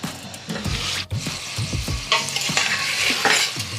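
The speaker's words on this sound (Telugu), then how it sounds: "చికెన్ ఒకసారి కలిపేసి వెళ్తాను." Chicken pieces stirred in sizzling oil for gongura chicken curry, a steady loud fry with repeated scraping stirs of a spoon against the pan, close up with no voices.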